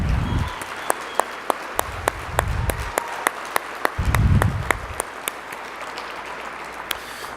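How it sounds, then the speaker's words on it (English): Audience applause at a Gridiron Greats 2018 event swells from a crowded room, a continuous wash of many hands clapping with a few sharp individual claps standing out and brief bursts of cheering. "If we could just give him a round of applause, and his wife, Yvonne."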